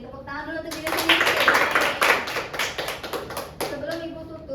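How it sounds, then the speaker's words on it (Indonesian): A classroom of students claps for themselves at the end of a micro-teaching lesson, bursts of applause rising and fading over several seconds while a teacher's voice is heard speaking before and after. "Tepuk tangan dulu untuk diri sendiri."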